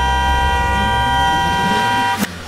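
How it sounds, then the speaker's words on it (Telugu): A vehicle horn sounds from behind as one loud, steady blast lasting about two seconds before cutting off abruptly, heard on a comedy stage show. "వెనకాల నుంచి ఎవరైనా హార్న్ కొట్టాడు అనుకోండి"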